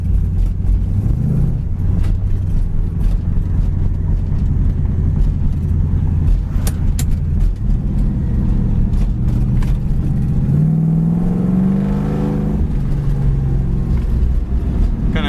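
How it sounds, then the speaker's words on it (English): A 1969 Camaro in Hugger Orange pulls away in first gear and climbs through the gears, its engine rumbling loud and steady with rising and falling pitch at each shift, heard from inside the car with no talking. "Just gonna drop it down in first and go through the gears for you."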